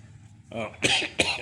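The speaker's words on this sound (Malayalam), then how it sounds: "ക്ഷമിക്കണം ഞാൻ ഇടയ്ക്കിടയ്ക്ക് ചുമയ്ക്കുന്നുണ്ട്" A person with a fever and cough coughs twice in quick succession, close and fairly loud, after a brief vocal sound.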